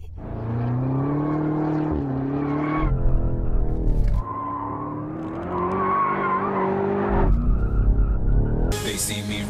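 A BMW M5 or M8 launching in two-wheel drive, loud engine revving with rising and falling tones through the gears, ending in a brief burst of hiss; no speech.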